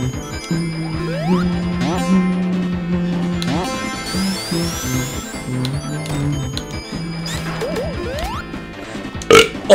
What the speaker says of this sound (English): Oh, I just burped.